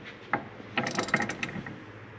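Ratchet tightening a fastener on a collapsible tilt steering column, a short burst of close, rapid clicking ratchet strokes following one earlier click.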